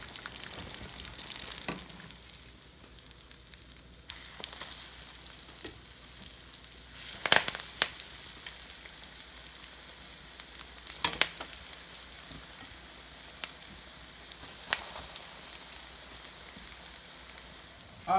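Eggplant slices frying in hot oil for eggplant parmesan, a steady crackling sizzle with scattered sharper pops and bursts throughout, close and continuous with no talking.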